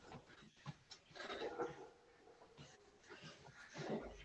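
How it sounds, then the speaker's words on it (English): Pet dogs whimper and whine softly in a room over several seconds, faint and fluttering, with brief rising cries scattered throughout. "Can you hear my dogs?"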